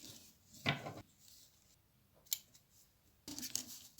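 Scissors cut crochet thread at close range: a few quiet, crisp snips and slides, separated by near silence.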